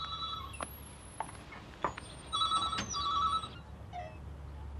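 A telephone at a roadside call box in 1990 gives a few short electronic ring bursts against a faint, steady background hum.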